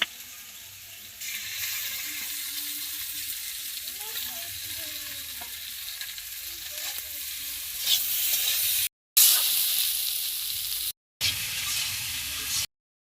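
Cumin paste and green chili paste frying in a pan for a spotted barb fish curry: a steady, close sizzle with stirring. A few louder bursts come late in the clip, and short gaps break the sound.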